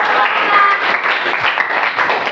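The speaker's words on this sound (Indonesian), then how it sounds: "tepuk tangan." Students in a physics classroom clap together in a loud, dense burst of applause that continues evenly throughout.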